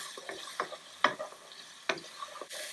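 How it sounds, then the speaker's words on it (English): Three minced garlic cloves are stirred in a pan for pork braised in milk, heard as short scraping strokes and light taps over a faint sizzle, close up and in uneven bursts. "I'll stir in 3 minced garlic cloves"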